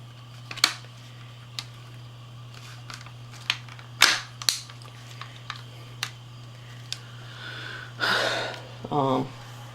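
A bolt-action, single-shot AR7 rifle fires with sharp, sparse reports, mixed with the clack of the bolt being cycled for reloading, set against a steady hum.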